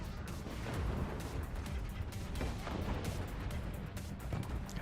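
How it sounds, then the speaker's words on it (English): Mortars firing and being shot down in the Forts strategy game, a dense rumbling barrage of booms and bursts, loud and continuous, with no talk over it. "Got those mortars. Just getting sniped out of the air."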